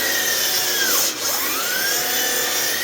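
A Hitachi 12-inch sliding dual compound miter saw with a laser runs steadily as a blade whine. Its pitch dips briefly midway as it loads into a wooden cant, then recovers to a constant high drone.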